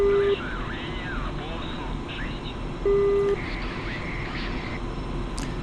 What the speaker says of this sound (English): please excuse all the beeping from the radar warning receiver